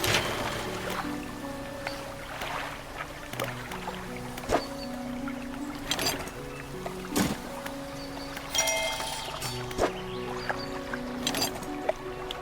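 A boat engine in the fishing video game Dredge hums and chugs steadily at moderate volume, mixed with lapping water and occasional clunks and splashes, with no one speaking.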